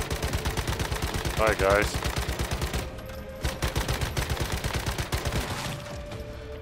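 Rapid automatic gunfire from a gun in the video game Once Human, with a Silo Phi fast gunner build, rattles in steady bursts with a brief pause and a short spoken greeting.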